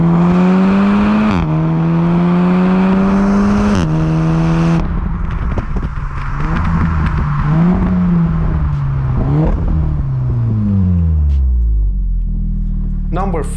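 A Volkswagen Golf R with a factory Akrapovic exhaust revs repeatedly, pitch climbing and dropping through throaty blips and pops, loud and close, ending in a deep settling rumble.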